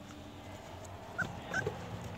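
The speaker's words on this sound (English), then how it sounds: "And that's Rum chirping down in the yard with my husband" A dog out in a yard gives a few short high chirps and whimpers, faint and spaced apart over low background noise, as it plays with a raw duck neck.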